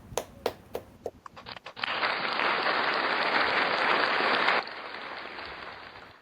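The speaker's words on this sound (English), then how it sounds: "Can we get a round of applause for it?" Small audience applause on a sports talk show: a few scattered claps at first, then a brief burst of steady clapping from a small group that cuts off, followed by low room sound.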